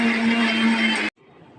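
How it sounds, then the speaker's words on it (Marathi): An electric mixer grinder blends prawn masala with tomato and a little water, a loud, steady whirring roar that holds for about a second before cutting off abruptly into quiet room tone. "आणि मिक्सर लावायचं।"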